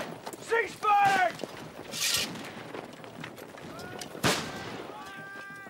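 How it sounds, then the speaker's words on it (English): Musket gunfire in a Napoleonic-era battle, several sharp shots and bursts over shouting voices and commotion, with the firing thinning out toward the end. "Stop firing! Cease firing!"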